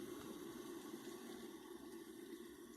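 Hot water pours steadily into a spider mug with a continuous, faint, close rushing splash that runs the whole time, with no voices.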